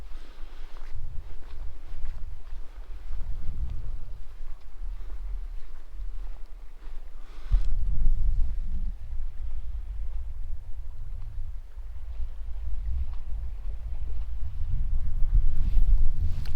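Steady wind buffets the microphone on the sandy shore of Loch Laidon on Rannoch Moor in Scotland, a low roaring rumble that surges and eases, with faint shuffling footsteps.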